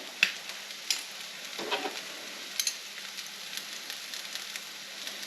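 Cumin and caraway seeds sizzling as they hit a hot pan while making shakshuka, a steady close crackling fry with a few sharp pops and stirring clinks, no talking.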